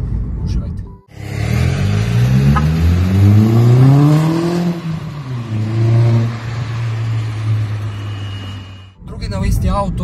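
A car engine revs in a played-back recording, sweeping sharply up and back down twice before settling into a steady, loud drone, with brief noise at the start and end.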